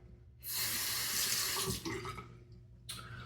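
Tap water gushes into a sink for rinsing after a straight-razor shave, a steady close splash lasting about two seconds, then briefly running again.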